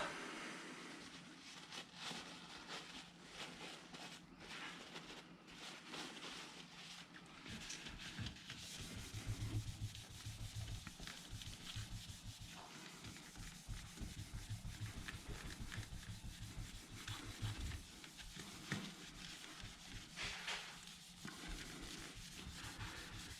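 Metal hand-polished with Annie Blue metal polish, a continuous close rubbing and scrubbing with rapid back-and-forth strokes that carries on steadily for a long stretch, fairly faint and without talk.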